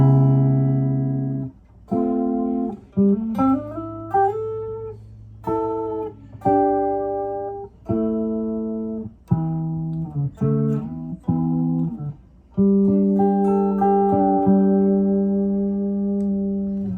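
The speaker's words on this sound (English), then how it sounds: "that's pretty much it for this chorus effect" A clean electric guitar runs through a chorus effect, picking a slow series of notes and chords with shimmering detuned sustain, solo and close without any voices.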